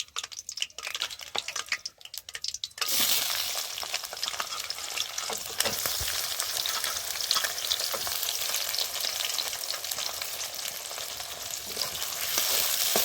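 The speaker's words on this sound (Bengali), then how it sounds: "এবার এইগুলোকে আমি লাল করে ভেজে নেব।" Chopped onions drop into a hot pan and break into a loud, continuous sizzle with crackling and stirring, following a few seconds of quieter clatter, close by and without speech.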